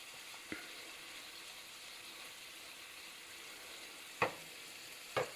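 Salted cabbage fries and wilts in a pan with a faint, steady hiss, broken by a few quiet utensil taps.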